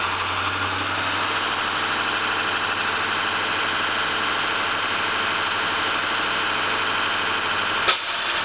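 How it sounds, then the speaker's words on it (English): A school bus air brake system hisses steadily under an idling engine, then the governor cuts out with a short, sharp burst of escaping air near the end, close by and distinct. "We heard that the governor cutting a burst of air"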